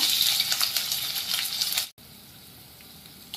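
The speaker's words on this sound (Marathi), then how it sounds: "तर हा कांदा आपण व्यवस्थित परतून घेऊया" Sliced onions sautéing in hot oil in a pan for prawn biryani, a bright steady sizzle close up that cuts off abruptly partway, leaving a faint hiss.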